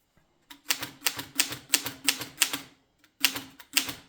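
An Erika M typewriter by Seidel & Naumann types in sharp, close key strikes, a run of about ten evenly spaced clacks, a short pause, then a few more.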